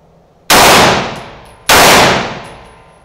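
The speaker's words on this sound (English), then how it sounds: "A couple of quick rounds there, 300 Blackout, bolt carrier group fired" Two loud, booming shots from an AR-15 rifle chambered in 300 Blackout, roughly a second apart, each with a sharp crack and a long ringing decay outdoors, no voices.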